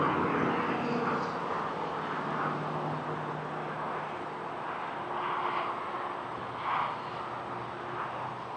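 An Air Canada Rouge airplane flight at Toronto airport gives a steady, broad cabin roar of engines and airflow, loud and continuous with slight swells throughout.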